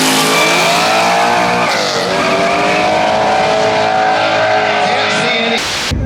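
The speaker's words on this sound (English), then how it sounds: "did you see my turbo car go down the track?" Turbocharged drag race car roaring loudly down a drag strip, a sustained high-revving engine note with rising pitch and a brief tire squeal, close and continuous.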